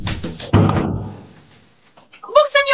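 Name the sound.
banging on a locked door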